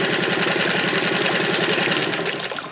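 Close, steady idle of a 1976 Mercury 20hp outboard motor, a continuous buzzing putter with even rapid pulses, alone with no talk.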